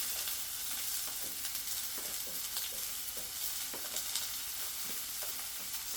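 Onions frying in a cast iron skillet before potatoes go in, a steady soft crackling sizzle with scattered stirring scrapes, moderately close and without voices.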